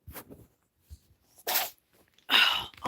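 A cat sneezes up close, giving two short, sharp bursts about a second apart, with fainter snuffling sounds before them.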